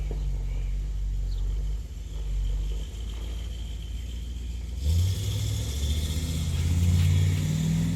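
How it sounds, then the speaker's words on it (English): An RV pulls away on a test drive, its engine rumbling low and steady, then swelling louder and rougher as it accelerates toward the end. "Got the RV rolling. And he's taking it for a test drive."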